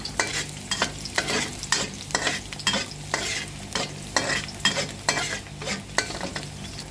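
Pork pieces stir-fried in a pan with a spatula for a broccoli dish, a rapid rhythmic series of scraping strokes over a continuous close sizzle.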